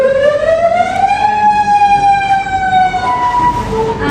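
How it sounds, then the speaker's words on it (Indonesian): A tsunami warning siren in Banda Aceh wails loudly and steadily, its tone sweeping upward and then slowly falling, heard close and on its own. "ketika sirene tsunami berbunyi"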